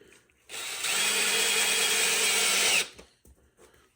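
A power drill drives a screw into baseboard, whirring steadily for about two seconds, loud and close, then stops abruptly with faint handling noise afterward.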